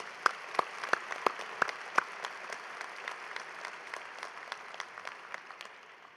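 Quiet, scattered applause from an audience: a few distinct claps at first, then thinning and fading out over several seconds.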